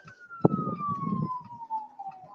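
A single police car siren wail slides steadily downward, fairly faint, after a sharp click and a brief low rumble at the start.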